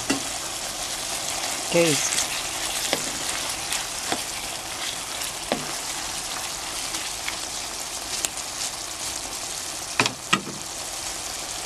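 Pork and carrot sizzle and crackle steadily in a pan as the liquid cooks down, with scattered sharp clinks of a utensil and one brief spoken word.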